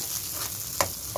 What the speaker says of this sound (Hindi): ग्राइंड किया हुआ मसाला जो है मैं इसमें डाल दूंगी